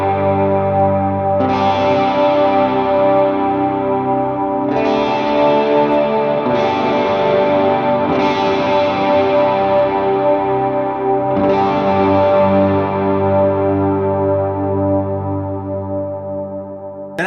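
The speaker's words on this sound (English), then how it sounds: "So now I'm going to click on a big ambient reverb and let's see if we can tell the difference." Electric guitar chords drenched in a big ambient reverb, each strum swelling and blurring into a lush, sustained wash that carries steadily throughout, with no talking.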